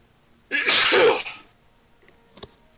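A single loud, close human sneeze bursts out sharply and fades within about a second, followed by near silence and a faint click.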